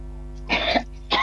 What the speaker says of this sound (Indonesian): Saya itu batuk.